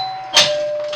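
A doorbell rings once indoors, a sudden bright chime that lingers briefly over a faint steady tone in a quiet room.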